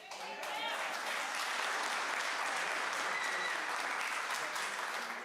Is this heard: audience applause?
yes